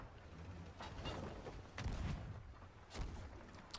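Cannon fire in the pirate video game Sea of Thieves, a few heavy booming blasts spaced apart over a steady background rumble, with no talking.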